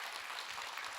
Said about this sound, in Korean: 네, 박수를 많이 주세요.